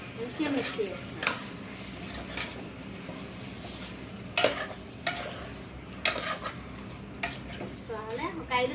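A spoon scrapes and clanks around a pot as country chicken with turmeric is stirred and mixed for curry, giving irregular metallic knocks over a low sizzle, with someone speaking in between.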